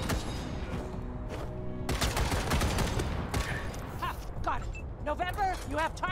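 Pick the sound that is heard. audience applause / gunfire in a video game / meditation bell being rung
gunfire in a video game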